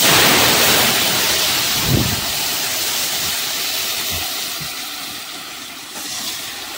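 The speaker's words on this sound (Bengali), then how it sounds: "তো চলো ডালটা ঢেলে দিই।" Cooked mung dal with papaya is poured into a hot pan of lightly fried turmeric, making a loud steady hissing sizzle that fades gradually, with a soft thud near the start.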